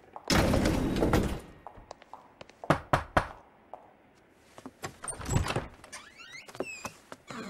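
In the L.A. Noire case The Fallen Idol, elevator doors slide and clunk, with a heavy rumble at first and then a series of sharp thumps and taps, close and clear against a quiet background.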